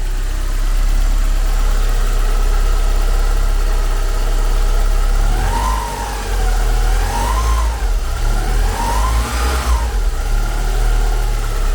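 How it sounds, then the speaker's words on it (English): The engine of a 1990 Porsche 944 S2 Cabriolet with a 5-speed runs close up at a steady, smooth idle, with a few gentle blips of revs rising and falling near the end. "I'm gonna get the microphone around the different parts of the engine."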